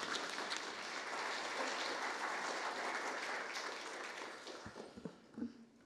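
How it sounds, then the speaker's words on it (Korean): Audience applause greets a welcome speech at a National Assembly humanities lecture, a steady broad wash of clapping that thins out and breaks into a few scattered claps near the end. "큰 박수로 맞이해 주시기 바랍니다."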